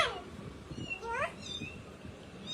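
A cat meows several times in rising, drawn-out calls, fairly faint against a quiet background hum, with short pauses between cries.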